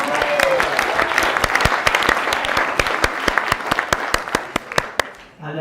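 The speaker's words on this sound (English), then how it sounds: "let's give her another round of applause" Wedding guests clap loudly for a singer at a reception: close, dense applause with sharp individual claps standing out, steady for about five seconds before it cuts off abruptly.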